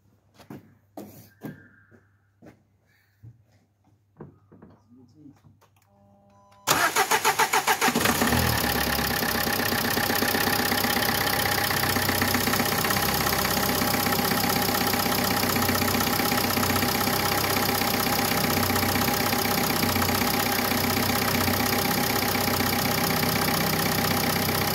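Nissan Qashqai engine cranks and catches after a few seconds of quiet ticking and handling sounds, then settles into a loud, steady idle that runs on without a break.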